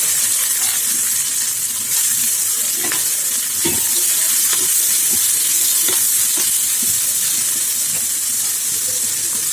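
Garlic and onion sautéing in a hot pan, with a loud continuous hissing sizzle and occasional soft scrapes and taps of a spoon stirring, close up, no talking.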